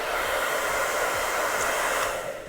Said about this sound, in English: I'm just going to get a hair dryer.